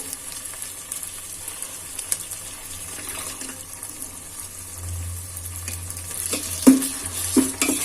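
Yogurt being stirred into a frying chicken masala for Ambur chicken biriyani makes soft, close scraping and wet stirring sounds over a low sizzle, with occasional clinks of the spoon and no speech.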